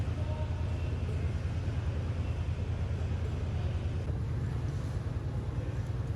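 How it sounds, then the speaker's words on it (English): A Chiltern Railways silver set of Mark III coaches with a DVT at the rear, hauled by a Class 68 diesel locomotive, gives a steady low rumble with rhythmic wheel-on-rail beats heard from onboard, continuous and fairly loud with no talking. "one of Chiltern Railways Locomotive hauled trains, which is formed of Mark III coaches with a DVT on the rear and a Class 68 locomotive on the front"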